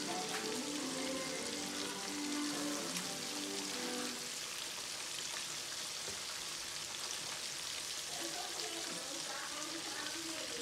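Shrimp coated in panko bread crumbs frying in hot oil, a steady dense crackling sizzle that runs unbroken and close throughout, with faint tonal hum in the background.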